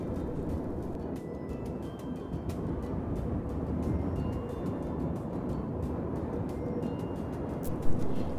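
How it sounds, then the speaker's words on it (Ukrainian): Steady, broad rushing wind fills the whole stretch, a constant low roar with a brief gust swelling near the end. "це дме осінній вітер"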